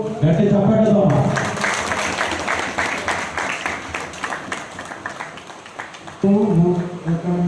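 An audience at a Telugu social novel launch bursts into a few seconds of loud, sustained clapping, with a voice speaking over the sound just before and after it.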